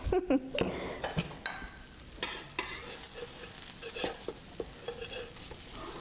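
Buttermilk pancakes sizzle and crisp in a hot pan, a continuous close frying hiss broken by scraping and clinking of a utensil.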